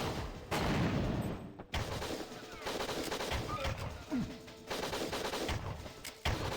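Enemy gunfire in the Winback: Covert Operations video game, bursts of shots in a busy, sustained firefight with several sharp breaks and re-entries, fairly loud against steady game noise.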